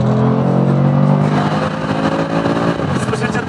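An 850-horsepower Keyvany car engine revs hard and accelerates, starting as a loud, steady low roar that shifts into a rising, strained tone as it pulls away, heard close and alone.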